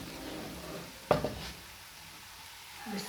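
Tomatoes drop into onion, garlic and ginger frying in a pan. A soft sizzle carries a brief clatter as they land, then the frying continues quietly.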